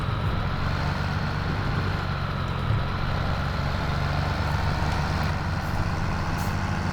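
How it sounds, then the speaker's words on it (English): A New Holland tractor engine runs loud and steady up close, with a constant deep rumble and no break across the whole stretch. "It is very loud, this tractor."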